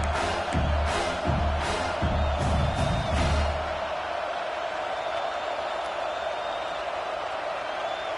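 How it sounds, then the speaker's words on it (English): Home crowd at a football game cheering loudly and steadily, a dense roar that fills the whole clip with a few sharp bursts early on, probably under low commentary. "how nice is it to have the home crowd going absolutely bananas"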